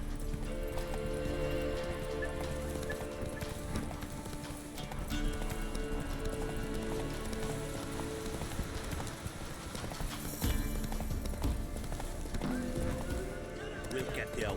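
Horse hooves clip-clop steadily while riding in The Witcher 3, a rhythmic run of hoofbeats with occasional whinnies, under voices talking.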